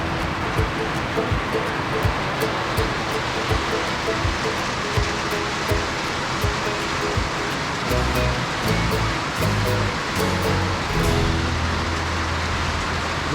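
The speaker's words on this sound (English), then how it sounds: "The rain is seriously coming down." Heavy rain pours down outdoors at a gold-prospecting camp in Alabama, a steady dense hiss with scattered close drips and patters that continues without letup.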